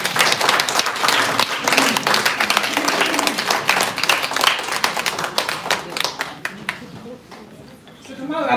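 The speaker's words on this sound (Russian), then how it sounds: "Аплодисменты!" An audience at a Crowd1 event in St Petersburg applauds its sponsor Sergey Kachelin. The crowd claps loud and dense at first, then the clapping thins into scattered individual claps and fades toward the end.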